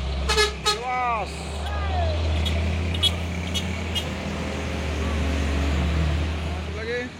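A Hino Euro 4 truck in Jember, Indonesia idles with a steady low engine drone, while short horn toots sound near the start and brief tonal sweeps come and go over traffic noise.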